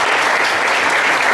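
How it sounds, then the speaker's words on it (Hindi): A seminar audience claps loudly and continuously, a dense wash of applause with no pauses. "जोरदार तालियों"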